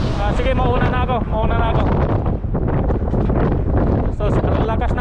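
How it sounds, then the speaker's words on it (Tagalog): Strong gusting wind roars across the microphone during a bicycle ride, loud and continuous throughout, with a person talking over the buffeting. "So, ang lakas ng hangin."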